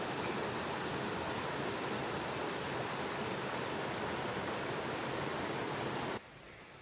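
Steady, dense rushing water roars close by without a break for several seconds, then cuts off abruptly near the end.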